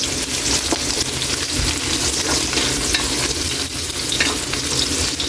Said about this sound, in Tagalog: Lagyan na natin yung bawang. Sama na rin natin kaili yung sibuyas. Haluin muna natin.